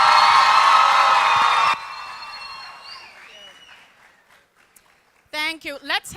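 A college signing day crowd roars and cheers loudly for the campus president, then the noise fades away into near silence; a voice starts speaking just before the end.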